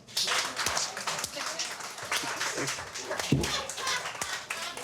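Someone gives a big hand clap in a studio, with several sharp claps over continuous talk and laughter, fairly close and loud.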